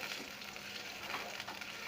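Blended vegetables and onion fry in hot oil for a dzobodzobo dish, giving a soft, steady sizzle and crackle up close, quiet and continuous with no talking.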